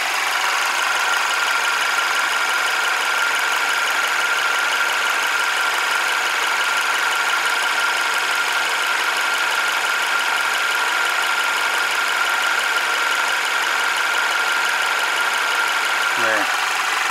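A Mercedes W213 E200 direct-injection four-cylinder petrol engine idles steadily and close by, with the high-pressure fuel pump adding a constant light ticking over the hum, ending in a brief sweep near the finish.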